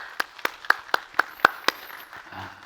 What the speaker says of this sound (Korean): 서로 위로하면서 한 박수라도 격려하도록 하겠습니다.